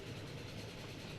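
A train in Transport Fever 2 rumbles past steadily, a dense low rolling rush with faint wheel clatter, close and continuous for the whole moment with no talk.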